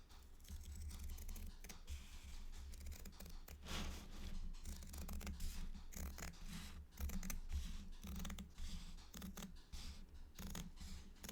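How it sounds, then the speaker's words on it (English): Scissors cutting fabric for a stitching project, a close run of repeated crisp snips and rustling cloth with no talk. "So then I just cut my fabric."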